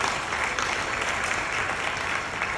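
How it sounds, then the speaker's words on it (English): Audience applause at an EMY Africa Xpo 2025 interview session, a steady dense wash of clapping heard alone and fairly evenly throughout. "Give her a round of applause, please."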